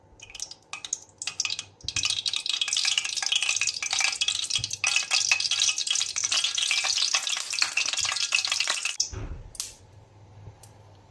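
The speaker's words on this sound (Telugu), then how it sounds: "ఫస్ట్ ఆయిల్ వేసుకుంటున్నాను." Oil heats in a pan on a stove for an eggplant gravy. Faint clatter leads into a loud, dense, continuous sizzle lasting several seconds, which then cuts off abruptly, with no voices.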